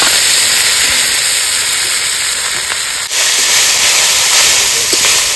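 Red amaranth leaves hit hot oil with panch phoron and dried chillies, giving a loud, steady frying hiss and sizzle close by that runs the whole time, with a brief dip midway as the pan is stirred.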